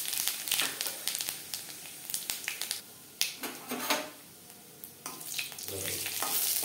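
Bay leaf, dried red chilli and whole cumin sputtering in two spoons of refined oil as a tempering for moong dal with radish, sharp popping crackles over a steady close sizzle, nobody talking.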